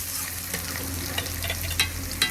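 Chopped onion and tomato sauté in a pan with a continuous soft sizzle, broken by a few light spatula taps and scrapes, close by and with no talking.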